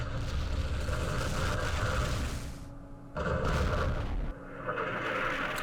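Artillery fire rumbles through a Vietnam War strategy video game, with a steady, fairly quiet barrage of booms, brief gaps between heavy bursts and no voices.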